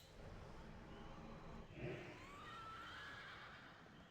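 A horse in a video game gives a single drawn-out whinny with a rising and falling tone, heard faintly over a steady low background hum, with no hoofbeats standing out.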